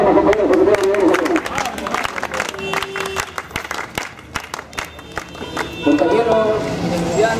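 Applause at a political anniversary gathering: dense clapping from a crowd with cheers and scattered voices in a reverberant hall, swelling at the start and again near the end.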